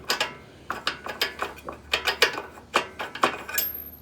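Socket wrench turning counterclockwise to loosen a lawn mower spark plug, giving a close run of sharp, evenly spaced ratchet clicks in quick bursts with no talking.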